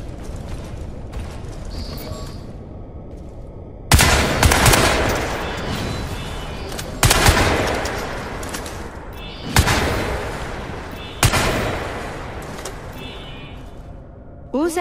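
Weapons fire in Crysis 3 sounds in four heavy bursts, each a loud, sharp blast that fades into a rumbling tail, with low mechanical sounds and clanks in the gaps between them.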